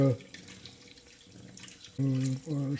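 Water running and splashing as organic sorghum grain is washed in a kitchen, a short soft trickle with a voice speaking briefly near the end.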